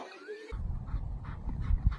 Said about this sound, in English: Oh, what's this dog doing?